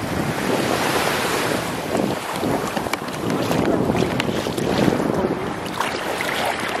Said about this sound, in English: We are doing the ocean for the last time before the sun sets.